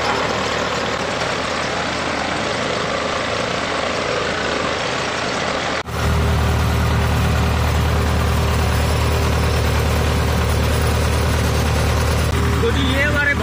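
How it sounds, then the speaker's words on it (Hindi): A tractor engine idles and runs in a rural village setting, a steady low rumble that grows louder and heavier after an abrupt change midway, continuing close by for several seconds with no talk over it. "चलाते हैं जी ट्रैक्टर।"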